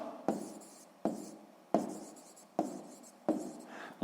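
Pen strokes scratch on paper in a math exercise, five short separate bursts of writing each starting with a sharp tap and fading, quiet and close.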